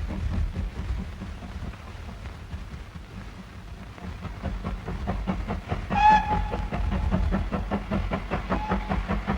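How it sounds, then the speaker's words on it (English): A railway engine rumbles past in an old film soundtrack with a steady rhythmic clickety-clack, and its whistle sounds loudly partway through before the wheels keep clattering on. "you can really hear God's wonderful railway engine going across the screen."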